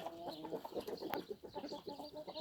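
Backyard hens and a rooster clucking close by, short repeated clucks in an uneven, busy rhythm, with no people talking.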